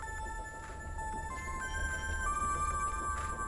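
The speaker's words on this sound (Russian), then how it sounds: "Кажется, звонок раздается отсюда." An old mobile phone rings in a video game scene, a steady electronic ringtone of sustained tonal notes repeating over a low background hum, fairly quiet with no talk.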